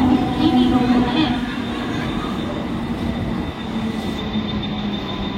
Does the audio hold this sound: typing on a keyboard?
no